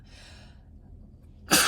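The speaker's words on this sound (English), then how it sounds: "I felt the sneeze coming and the itchy nose thing." A person gives a faint intake of breath, then one sudden, loud, close sneeze bursts out at the end.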